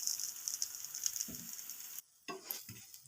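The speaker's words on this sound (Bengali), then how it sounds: "বেগুনগুলো খুব ভালো হয়ে ভাজা হয়ে গেছে" Eggplant slices fry in a pan with no oil, giving a soft, steady sizzle broken by brief stirring and scraping taps, quiet and close, with a short silent gap.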